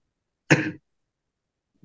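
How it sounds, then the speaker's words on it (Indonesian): One short, throaty cough from an elderly man, close and clear, followed by silence and the start of a word. "Sepertinya Pak Kiai juga sudah batuk."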